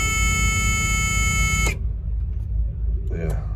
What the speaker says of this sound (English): The buzzer's doing my head in still, just in case you've forgotten what it sounds like.